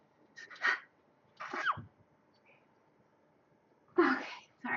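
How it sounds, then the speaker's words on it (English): A few sharp, breathy bursts, including what sounds like a sneeze, separated by quiet pauses; close and fairly loud. "I have to sneeze."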